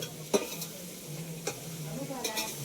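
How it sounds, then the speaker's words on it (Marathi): Chillies sizzle softly in a frying pan at a village puja gathering, with a few sharp scrapes of a stirring utensil against the pan over the low, steady frying hiss. "इकडे काकी मिरच्या तयार करते."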